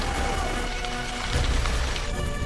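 Heavy Indian summer monsoon rain pours down onto parched ground, a dense, steady hiss of drops with no talking.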